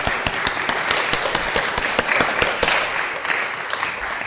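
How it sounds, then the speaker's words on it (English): Church congregation on Father's Day clapping to honor the fathers standing in the sanctuary, a steady run of distinct, fairly close hand claps with no talking. "let us give them a round of applause"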